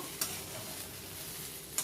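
Okra fry being stirred in a pan with ground spice powder, a steady soft sizzle throughout with a couple of sharp spoon scrapes at the start and end, no voices.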